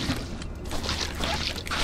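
Water poured and splashed across a floor in Viscera Cleanup Detail, a steady wet splattering and sloshing that runs without pause for about two seconds at a fairly loud level, with no talk over it.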